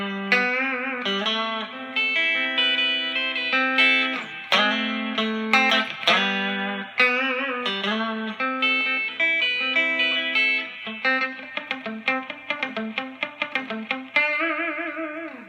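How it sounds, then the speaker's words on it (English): Fender American Professional Stratocaster electric guitar played clean with reverb, giving a vintage surf tone; a steady run of melodic notes and chords rings out alone, with quicker picked passages toward the end. "This has that vintagey, quintessential Strat sound, which sounds really nice for surf."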